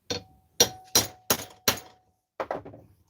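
A center punch hammered into sheet metal in a garage, five sharp metallic strikes in quick succession, then a pause and two more blows, close and ringing with no talk.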